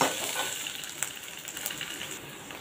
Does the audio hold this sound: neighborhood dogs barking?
no